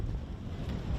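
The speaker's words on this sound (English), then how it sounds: "A windy afternoon at the moment." Wind buffeting a microphone at a MetroStars versus Sydney United football match, a low rumbling gusty roar that stays loud and continuous for about a second.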